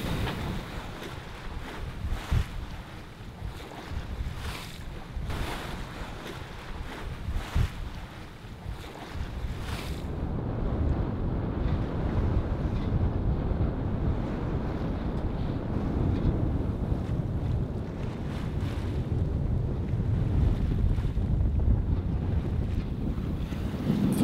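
Sailing boat heading straight into the wind, with rushing waves and gusts buffeting the microphone. Close and loud, the sound grows denser and steadier from about halfway through.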